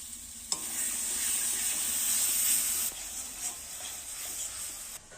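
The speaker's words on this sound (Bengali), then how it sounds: "এবার আদা রসুন বাটা দেব" Ginger garlic paste hits a hot pan and sizzles loudly and steadily with a bright hiss, easing slightly partway through, for a prawn malai curry.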